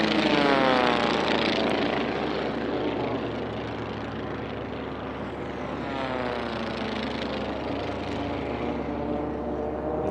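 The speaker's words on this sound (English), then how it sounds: "Great sound right there, Tommy, in these Continental O200 engines, 4-cylinder air-cooled engines" Continental O200 four-cylinder air-cooled engines on Formula 1 class racing airplanes, turning over 4,000 RPM, roar loudly and continuously as several racers pass close by in a championship heat.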